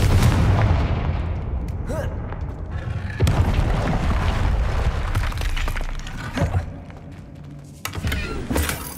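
Fiery Confringo spell blasts from the Hogwarts Legacy game on PS5, a dense run of loud booming explosions and sharp cracks over a continuous rumbling battle din, with hits landing around 3, 6.5 and 8 seconds.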